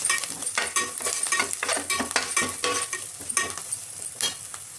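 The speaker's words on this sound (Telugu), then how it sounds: "ఉల్లిపాయ ముక్కలు వేసి మంచిగా కలిపి ఫ్రై అయిన తర్వాత" Sliced onions sizzling and frying in a pan, stirred repeatedly so scraping clinks break through a constant crackle, close up with no voices.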